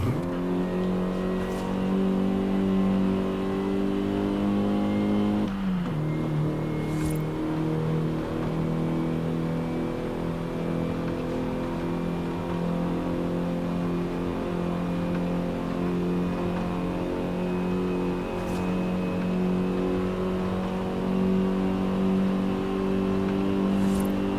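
Engine of a Mitsubishi Starion in the video game Forza Horizon 5, droning steadily at high revs with one sharp shift in pitch early on, loud and continuous with no talking.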